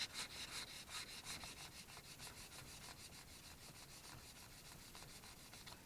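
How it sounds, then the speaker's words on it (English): Sandpaper rubbing back and forth over guitar frets during fret cleaning, a steady close scratchy sanding sound with repeated strokes throughout, no talking. "You just have it like that, and you just sand it."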